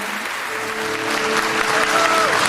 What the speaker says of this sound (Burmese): အခုလက်ခုပ်တန်လေးနဲ့ကြိုဆိုပေးပါလားရှင်